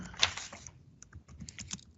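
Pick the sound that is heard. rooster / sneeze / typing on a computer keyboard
typing on a computer keyboard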